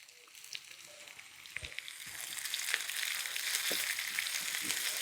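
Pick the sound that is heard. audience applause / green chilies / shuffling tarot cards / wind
green chilies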